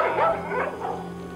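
Police dogs bark in a short, close burst of a few yips and barks, over a steady low hum.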